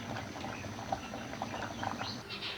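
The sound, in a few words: lasagna sheets boiling in a pot of water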